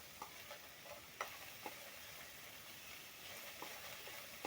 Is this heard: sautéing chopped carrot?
yes